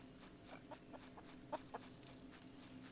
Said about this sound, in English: A little bit of chicken clucking.